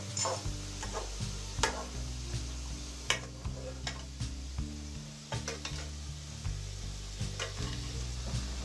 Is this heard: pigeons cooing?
no